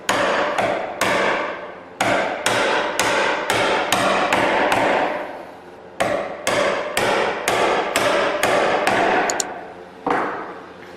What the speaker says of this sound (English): So I finish them with chisels, and that's what I'm going to do right now.